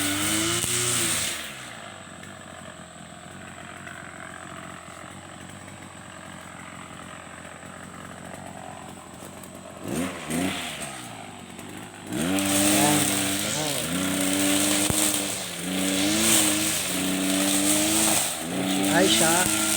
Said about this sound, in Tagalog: Nag-grass cutter siya.